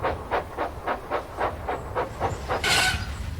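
A cartoon steam engine chuffs rhythmically into a wharf, about ten even puffs in quick succession, ending in a sharp hiss of steam.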